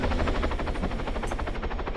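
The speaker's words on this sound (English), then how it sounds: "Oop, chopper's going down." Helicopter in the ArmA 3 video game going down, a steady loud rotor chop with rapid rhythmic thumping that holds throughout, alone without speech.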